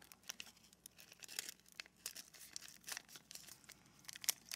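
Origami paper is pressed flat and folded by hand with close, crisp crinkles and soft rustling crunches in irregular bursts, with no talking.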